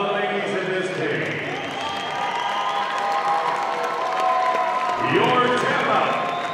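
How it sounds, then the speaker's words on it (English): Crowd at a cage fight event applauding and cheering loudly and steadily throughout, with shouts rising near the end and voices mixed into the noise. "let's have a big round of applause for one of the ladies in this cage."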